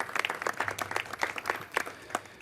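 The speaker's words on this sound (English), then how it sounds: "Yes, I think you can applaud to that." An audience at a boxing press conference at the MGM Grand gives a short round of applause, distinct individual claps close by, brief and moderately loud.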